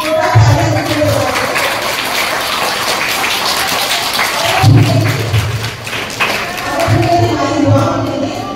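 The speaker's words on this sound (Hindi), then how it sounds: "थोड़ा तालियां देते हुए" A church congregation at a feast-day service applauds steadily, a dense wash of many hands clapping that swells at moments and continues for several seconds, with a few voices heard faintly underneath.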